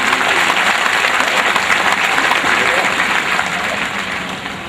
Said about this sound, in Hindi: जोरदार तालियों से इनका इस्तकबाल